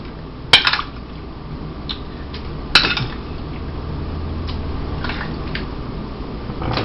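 Cooked onion and garlic are scooped into mashed potatoes. A utensil gives a couple of sharp clinks against the dish, then fainter soft taps and scrapes follow over a quiet kitchen background.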